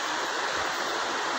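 Water flows down from the mountain in a stream, a steady, dense rushing that stays even and close from start to finish, with no voices.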